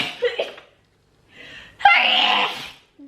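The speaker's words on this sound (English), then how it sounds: "I gotta sneeze." A woman's single sneeze bursts out sharply after a couple of short breathy intakes, close and loud, followed by a faint trailing sound.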